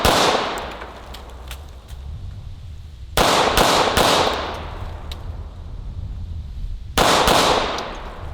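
1911 pistol fired at a shooting range, sharp loud cracks with ringing echoes, a few single shots then quick pairs spaced by pauses, no speech.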